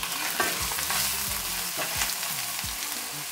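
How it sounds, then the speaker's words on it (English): Vegetables sizzle loudly as they are stir-fried in a pan with vegan butter, garlic and ginger. The steady frying hiss runs throughout, with spatula scrapes and tossing sounds and no talk. "Now I'm going to add my veggies in."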